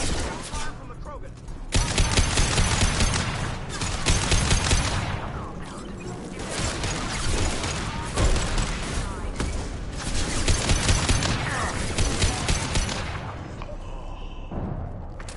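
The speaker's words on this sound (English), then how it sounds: "Fire from the Krogan." Heavy sustained gunfire from Krogan enemies in Mass Effect 2 Legendary Edition, dense overlapping bursts and booms rolling continuously with brief gaps, loud and close, with game voices mixed in.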